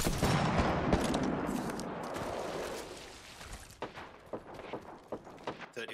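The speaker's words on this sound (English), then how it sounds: "Oh, she's getting shot by the other team" Gunfire from an opposing team in Apex Legends: a sustained, fairly loud rattle of automatic shots fills the first half, then thins into scattered single cracks and short bursts.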